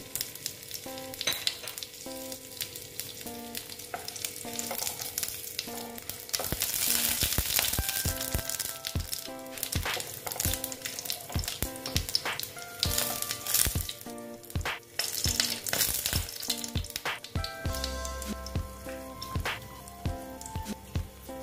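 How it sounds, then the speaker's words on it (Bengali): Dry chili, cumin, whole garam masala and bay leaf sizzle in hot oil as a tempering for a kakrol (spiny gourd) curry, a steady crackling fry with scattered sharp pops and clinks, close and fairly loud with no talk. "এখন একটা শুকনো লঙ্কা দিয়ে দিলাম, আর এই দেখো ফোড়নে জিরে আর গোটা গরম মশলা আর তেজপাতা"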